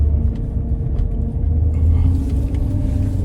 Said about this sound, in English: Sorry if my car is loud.